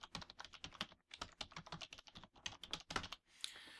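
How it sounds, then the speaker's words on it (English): Rapid, uneven clatter of keys being typed on a computer keyboard, close and fairly quiet, with a brief pause near the start and a short soft rustle at the end. "you have to type your full real name"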